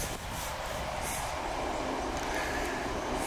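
Continuous rumbling and rattling of a train in motion, heard up close as if from inside a carriage, with a steady broadband roar.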